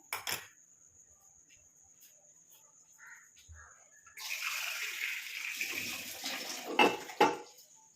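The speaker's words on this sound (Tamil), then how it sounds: "இதில் வந்து 1 டம்ளர் அளவுக்கு மட்டும் கொஞ்சம் தண்ணி சேர்த்துக்கலாம்" Water pours into a clay pot sitting on a stove. A steady broadband rush of pouring starts partway through and continues to the end, fairly close, and a couple of louder clinks come near the end. There is no talk.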